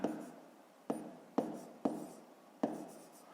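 Pen writing on paper in a quiet room, faint close scratching strokes, with several sharp taps as the pen touches down, no voices.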